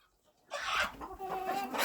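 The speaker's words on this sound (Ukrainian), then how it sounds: "Курка вийшла." A chicken on a farm clucks repeatedly at close range after a brief quiet moment, with a steady run of short, throaty calls.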